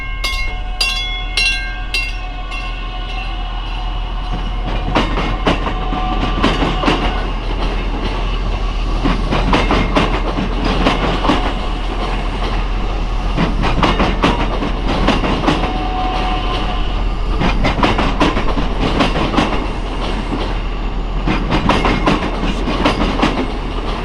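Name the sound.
commuter train departing along rails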